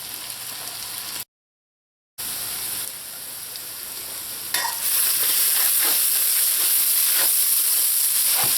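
Potatoes for Trinidad fried aloo sizzle and brown in a pan, a continuous close frying hiss broken by a short gap, then louder and brighter with intermittent stirring scrapes.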